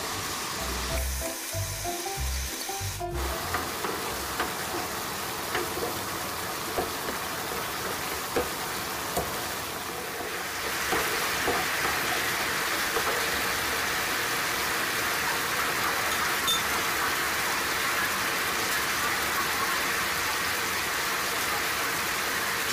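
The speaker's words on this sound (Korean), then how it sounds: "양념장이 바글바글 끓으면 두부를 넣어주세요" Tofu steak simmers in a pan of bubbling seasoning sauce, giving a steady close sizzle and hiss after a few brief clunks at the start, with no talking.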